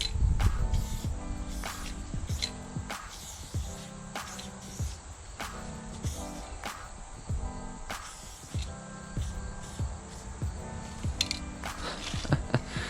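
Rustoleum spray paint can fired through a graffiti cap adapter, repeated short hissing bursts of spray with pauses between, close and fairly clear, with little talk.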